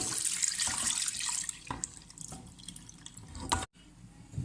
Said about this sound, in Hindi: यही पानी इसमें हम डाल देंगे